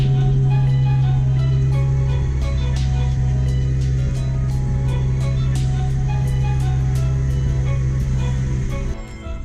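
A used car's engine idles steadily and close by, a strong low rumble with a constant even tone running without a break, smooth and healthy, fading slightly at the very end.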